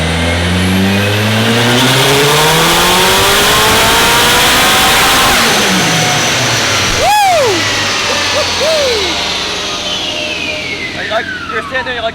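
A Nissan S13's engine revs hard on a dyno, climbing steadily in pitch over several seconds to the rev limiter, loud and continuous, with a siren-like whine and voices briefly over it near the end.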